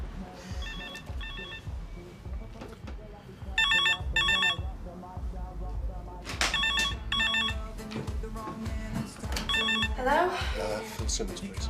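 Telephone in a British TV drama setting rings in repeated electronic bursts, close and clear, with people talking over and between the rings.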